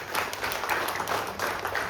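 Applause from the audience at a Marathi TV serial's launch press conference for its cast: dense, steady clapping from a crowd, fairly even in loudness throughout with no voices over it.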